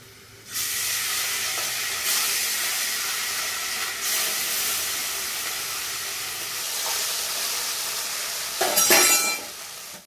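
Small fish frying in hot oil in a wok, with a steady loud hiss and sizzle running throughout and a sharper spitting flare near the end.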